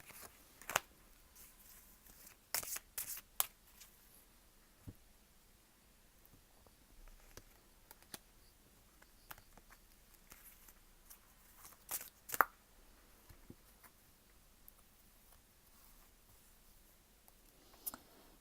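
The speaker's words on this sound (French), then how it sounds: "je remets la carte dans la coupe et je vais retirer 3 cartes" Tarot cards are handled quietly at close range: scattered soft clicks and a few sharper snaps as cards are shuffled, drawn and set down, with long near-silent gaps between them.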